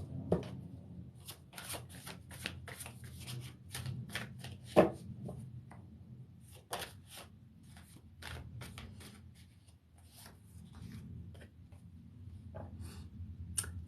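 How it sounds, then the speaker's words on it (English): A deck of tarot cards being shuffled up close, a long run of quick riffling flicks and soft papery slaps in irregular bursts, fairly quiet and without talking. "So I'm gonna pull a card."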